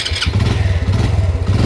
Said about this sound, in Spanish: vamos encendiendo la moto.